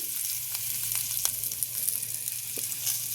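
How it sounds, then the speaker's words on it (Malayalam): Garlic and kanthari chillies with turmeric sizzle steadily in hot oil, a close, continuous frying hiss with a few soft stirring scrapes. "അപ്പം നന്നായിട്ട് വെളുത്തുള്ളിയുടെയും കാന്താരിയുടെയും പച്ചമണം മാറുന്നത് വരെ ഒന്ന് വഴറ്റിയെടുക്കുന്നുണ്ട്"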